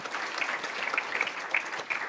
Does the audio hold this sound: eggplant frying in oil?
no